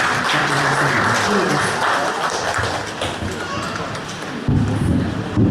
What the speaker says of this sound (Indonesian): Sekali lagi boleh ulang tepuk tangan buat ketemu K3